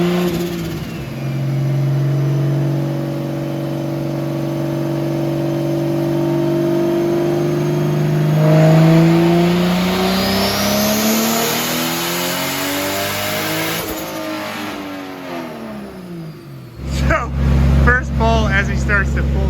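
A 2JZ engine with an S366 turbo in a Nissan 240SX revs hard on a dyno, a loud sustained pull with the pitch climbing steadily, then dropping off to idle with a few blips at the end.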